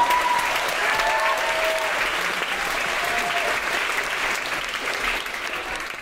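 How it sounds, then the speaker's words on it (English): Live audience at a comedy podcast recording breaks into sustained applause after a joke about reality television, broad clapping that holds steady and then tapers slightly toward the end, with no speech over it. "I like the applause"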